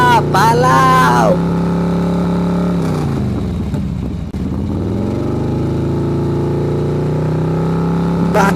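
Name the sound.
vehicle engine driving fast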